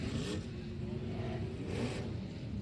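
IMCA stock car engines race on a dirt speedway track, a loud continuous roar with broadband rumble that swells near the start and again toward the end as cars pass close by.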